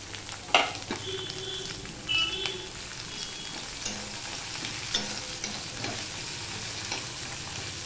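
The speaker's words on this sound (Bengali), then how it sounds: "হয়ে গেলে আমি দিয়ে দিচ্ছি পেঁয়াজ আর রসুনটা। আর 3-4টে কাঁচা লঙ্কা আমি দিয়ে দিলাম।" Onion, garlic and three or four green chillies hit hot oil with black cumin for a Bengali small-fish dish, giving a continuous crackling sizzle broken by a few sharp clatters of stirring and faint electronic tones.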